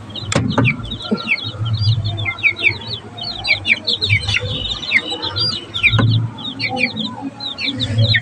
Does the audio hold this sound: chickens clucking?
yes